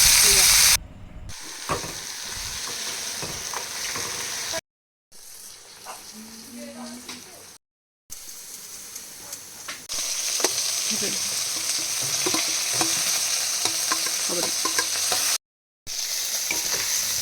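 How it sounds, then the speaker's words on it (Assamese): Gourd leaf tips and flowers frying together in a pan at home, a steady, close sizzle and hiss with occasional stirring, interrupted by several short silent cuts. "লাওৰ আগ আৰু ফুলখিনি একেলগে ভাজি উঠি"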